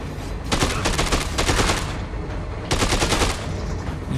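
Rapid automatic gunfire from the video game Dead Rising 2: Off the Record, two loud sustained bursts of dense shots separated by a short lull, with game ambience underneath.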